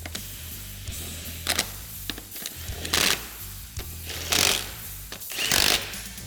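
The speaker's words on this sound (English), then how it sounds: "Now we're going to fully tighten our lug nuts." Wheel lug nuts are tightened on a Polaris RZR Pro R after a rear axle install, giving several short, loud ratcheting bursts spaced a second or so apart over a low steady hum, with no talking.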